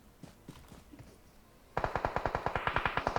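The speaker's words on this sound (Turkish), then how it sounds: "Aha üstümüzden sıkıyorlar." Rapid automatic gunfire in the mobile battle-royale game PUBG Mobile bursts in loud and close after a quieter stretch of faint clicks, a steady string of sharp evenly spaced shots running to the end.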